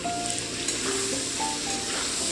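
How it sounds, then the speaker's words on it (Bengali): Chopped bottle gourd sizzles and fries in a pan while being stirred, a continuous close hiss with soft scraping, no talking. "তো এদিকে লাউটা দিয়ে দিলাম সামান্যই নাড়বো নাড়াচাড়া করে তারপরে ঢাকা দিয়ে দেবো"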